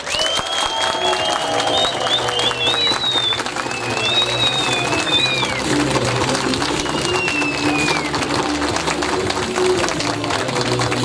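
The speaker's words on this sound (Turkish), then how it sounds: "bir alkış daha istiyorum" A crowd at a union press statement outside a hospital claps for health workers, steady outdoor applause mixed with scattered whistles and cheering voices, with a low background hum beneath.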